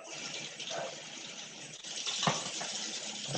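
Tap water runs steadily while someone rinses off after a head shave, a close continuous hiss and splash with small shifts as hands move through the stream.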